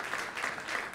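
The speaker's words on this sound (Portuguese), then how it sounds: "Aplauda com força." Congregation applauding at a church ceremony, a dense steady wash of many hands clapping throughout the short moment, moderately loud with no voices standing out.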